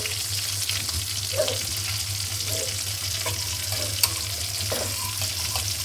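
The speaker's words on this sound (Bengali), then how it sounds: "এখন আমি আবার রান্না করব চিংড়ি মাছ চিংড়ি মাছ রান্না করব" Shrimp frying in a pan, giving a steady broad sizzle with occasional soft stirring scrapes and a faint low hum underneath, close and fairly loud with no talking.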